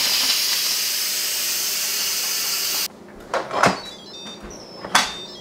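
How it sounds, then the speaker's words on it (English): Steam hisses loudly and continuously from a pressure cooker that has just finished cooking eggs, then cuts off abruptly, followed by a few clanks and knocks of the lid and cooker being handled. "Okay, it has been 5 minutes, so let's let the rest of the steam out."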